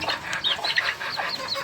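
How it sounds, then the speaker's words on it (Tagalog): A scaleless hen clucks in a short series of soft, close calls, with faint farmyard chatter behind. "ito yung original kong inahin na walang kaliskis"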